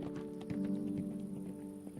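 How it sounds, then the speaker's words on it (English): Horse hooves in the video game Pax Dei, a steady clip-clop of hoofbeats, faint and distant over a humming background, no talk. "That sounded like a horse."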